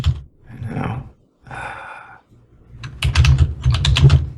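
Typing on a computer keyboard, soft scattered taps at first, then a denser run of close, crisp keystrokes toward the end.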